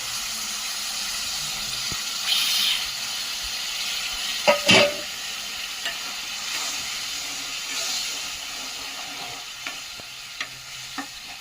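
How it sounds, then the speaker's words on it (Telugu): Tamarind juice poured into fried masala paste in a pan, giving a steady soft sizzle and hiss with a few sharp splashes and clinks along the way. "ఇప్పుడైతే చింతపండు రసం అయితే వేసుకుందాం"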